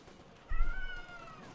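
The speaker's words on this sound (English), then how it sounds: "Just ignore the cat." A single clear cat meow, close and fairly loud, rising then falling over about half a second, under a faint background with no talk.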